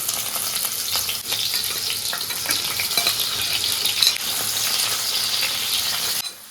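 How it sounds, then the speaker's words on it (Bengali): Bitter gourd slices frying in white oil in a wok, a steady loud sizzle with crackling pops that runs unbroken before cutting off abruptly near the end. "কড়াইতে আমি সাদা তেল দিচ্ছি"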